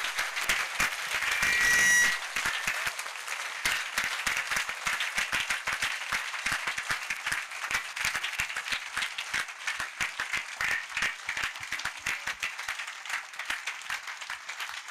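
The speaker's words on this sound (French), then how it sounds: "Clap for Jesus Christ" A church crusade congregation in Bafoussam claps loudly and continuously for Jesus Christ, a dense, sustained wall of applause with crowd noise from start to finish.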